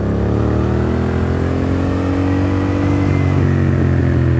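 Yamaha FZ07 motorcycle fitted with a full exhaust, held at high revs close by, a loud, sustained engine drone with a gently rising pitch and no speech over it.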